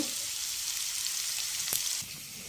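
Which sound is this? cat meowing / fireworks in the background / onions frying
onions frying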